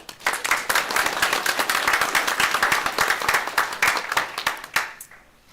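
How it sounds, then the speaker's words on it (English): Applause from the audience at a Cuyahoga Falls City Schools board of education meeting, a lively burst of many hands clapping for student honorees, sustained and fairly close before tapering off abruptly at the end. "So if we could have a little round of applause for them"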